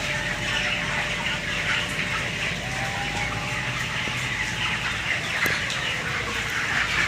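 Crowded poultry farm chickens about 27 days old, a dense, constant wash of clucking and peeping from many birds under steady background hum, with one brief louder squawk.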